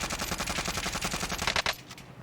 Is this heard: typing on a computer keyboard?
no